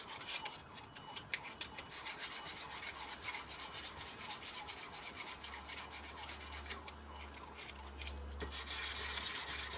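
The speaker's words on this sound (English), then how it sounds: "it's nice that the sandpaper is skating over the top of all this now, not biting in so much" Sandpaper rubs back and forth across the blade of a bushcraft knife made from an old metalworking file, a steady rhythmic rasping of close strokes that carries on throughout with no talk.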